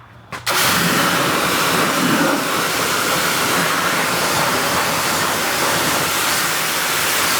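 A constant loud hiss of water spray rinsing a cleaned wheel and tire begins abruptly after a brief pause and continues steadily, close and unbroken.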